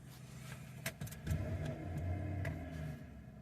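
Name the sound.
2008 GMC Sierra 4x4 truck engine revving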